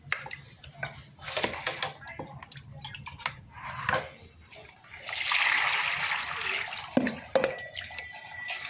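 Lentils being washed in water by hand, with sloshing, dripping and splashing close up and a longer stretch of pouring or swirling water midway, with no voices.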